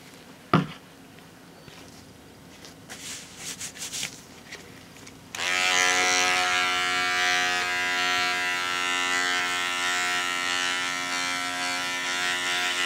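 An electric razor switches on partway through and hums steadily at close range with a bright buzzing drone, following a few seconds of soft handling noises and a sharp click before it starts.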